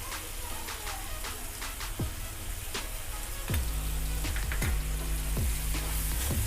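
Tomatoes sautéing in a pan for a mixed vegetable kurma, a steady sizzle with soft crackles and a few brief clinks or stirring knocks, growing slightly louder in the second half.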